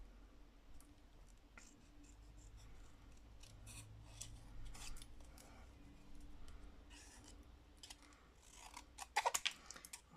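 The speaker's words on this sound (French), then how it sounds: "on découpe en forme d'œuf" Scissors snip paper card into an egg shape for a scrapbooking Easter basket card, with quiet, irregular close cuts and a quick cluster of sharper snips toward the end.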